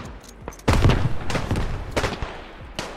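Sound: grenade explosion and gunfire in a World War 1 video game

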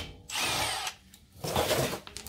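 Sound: stubby impact wrench removing wheel on Scion xB brake job

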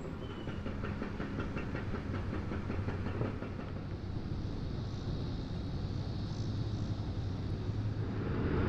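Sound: train crossing a bridge

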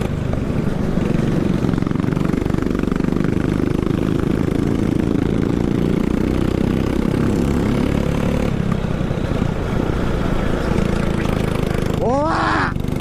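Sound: go-kart engine accelerating on a kart track

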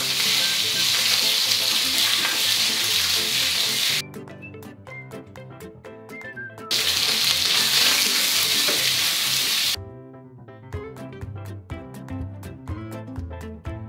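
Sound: pork belly frying in a hot pan

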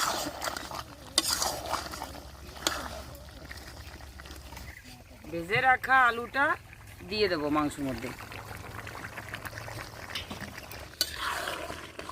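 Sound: stirring chicken curry in a pot

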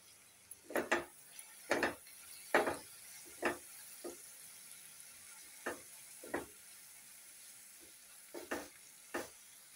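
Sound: mixing spices into dal and spinach in a pan

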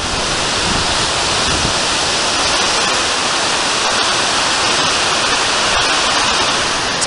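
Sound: noisy river rapids in Yellowstone

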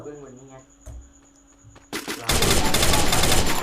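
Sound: gunfire from the video game Free Fire

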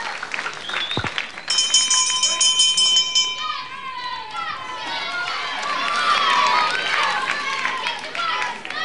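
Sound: bell ending a wrestling round

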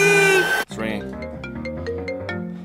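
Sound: phone ringing on an outgoing call

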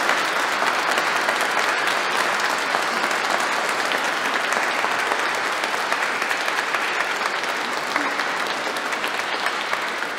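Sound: audience applause for choir conductors at a concert

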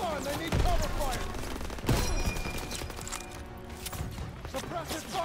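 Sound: gunfire and grenades in Call of Duty WWII video game

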